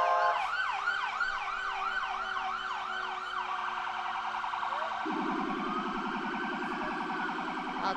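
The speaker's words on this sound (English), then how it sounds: "we had an ambulance go by, too" An ambulance siren passing a street parade wails in rising sweeps, then shifts to a rapid yelp pattern, loud and steady throughout with no talking.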